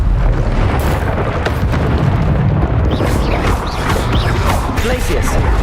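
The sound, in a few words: Confringo fire spell explosion from video game Hogwarts Legacy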